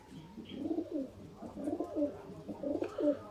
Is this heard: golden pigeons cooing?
yes